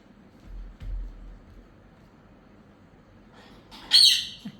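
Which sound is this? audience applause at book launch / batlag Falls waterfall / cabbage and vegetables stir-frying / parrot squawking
parrot squawking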